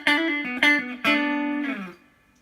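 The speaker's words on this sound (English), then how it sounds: "So you can hear I've got quite a bit of reverb going" Electric guitar played through a 1980 Fender Pro Reverb amp on the vibrato channel with heavy reverb: three sustained picked notes, each ringing out in a wash of reverb before fading to a quiet tail.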